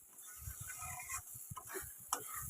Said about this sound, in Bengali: এরকম নেড়ে নেড়ে কিন্তু পটলের ভর্তাটা রেডি করতে হবে।